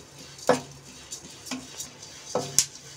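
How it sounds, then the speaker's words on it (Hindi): Melon seeds (magaj) roasting in a pan give off sparse, sharp crackles and pops at irregular intervals, close and fairly faint, over quiet background hiss. "और ये हमारे मगज भी भूनकर तैयार हो चुके हैं और ये भी चटर पटर की आवाज आ रही है"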